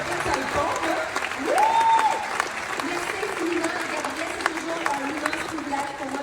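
Audience applauding sponsors at a benefit show, sustained broadband clapping from a hall crowd across the whole stretch, with a voice and a brief sung or tonal sound rising above it.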